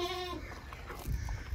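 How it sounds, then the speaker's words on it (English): Billy goats bleat on a farm, with a harmonic wavering call at the start that fades out, followed by low rustling and handling noise close to the microphone. "those two billy goats there"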